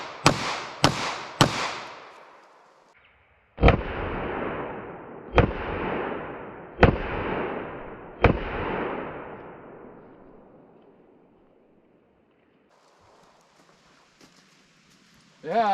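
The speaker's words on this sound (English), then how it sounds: "Let me just shoot a few, I guess." Pistol shots from 9mm and .45 ACP longslide handguns at an outdoor range: three quick sharp cracks, then four more evenly spaced about 1.5 seconds apart, each loud with a long ringing decay.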